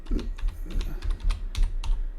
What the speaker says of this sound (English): excuse the keyboard noise